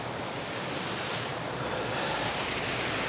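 A small river flows steadily through the morning outdoors, a continuous broadband rush of water that stays close and even throughout, with light wind noise and no voices.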